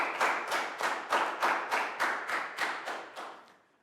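A class gives a round of applause after a primary science lesson, clapping together in a slow, even rhythm of about eleven distinct claps, close and clear, fading slightly at the end.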